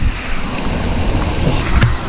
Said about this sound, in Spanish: Estamos debajo de las cascadas.